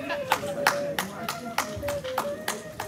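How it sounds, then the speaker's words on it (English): A single woman clapping at a memorial reception during tributes, giving a steady run of crisp hand claps about three per second, close by, with a voice and a sustained tone running underneath. "It's only the woman clapping"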